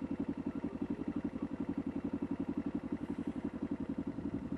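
Motorcycle engine idling close by, a rapid, even low-pitched chugging pulse that repeats steadily throughout at moderate volume.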